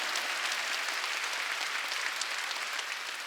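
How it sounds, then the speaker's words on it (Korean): A church congregation at a Sunday worship service applauds hard together, a dense, steady wash of clapping that holds at full strength throughout with no talking over it. "박수 치려면 세게 치라고요."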